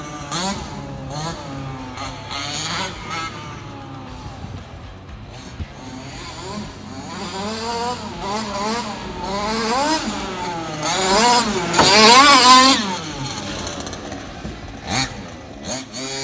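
Small electric or radio-controlled mini Kombi car with fiberglass front body, driving and bouncing off street gutters, producing a continuous whining, wavering motor sound that rises and falls in pitch and peaks loudly near the end.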